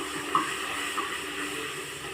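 Water is poured into a hot clay pot of spiced buttermilk curry seasoned with turmeric and asafoetida, a close, steady hiss and gurgle with faint sizzling that runs unbroken throughout, with no talking.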